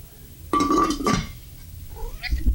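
A house cat lets out a loud, drawn-out meow followed by a shorter, fainter mew, close by indoors around feeding time.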